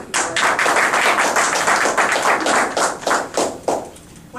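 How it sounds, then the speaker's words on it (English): Audience applause at a Toastmasters open house, a dense patter of many hands clapping steadily for several seconds, close and fairly loud, thinning out near the end. "we like to applaud each other"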